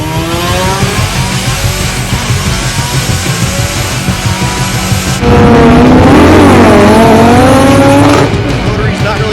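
A rotary-engine race car barks to life and revs hard, its raspy note climbing and falling in loud sweeps after a steady idle, with a voice talking over the engine.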